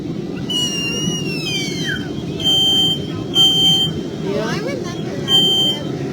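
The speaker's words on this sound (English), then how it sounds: "you guys know the sound a smoke alarm makes, right? Kind of like this." Shrill, repeating electronic beeps come in short pulses over a low background hum, loud and close, like an alarm going off.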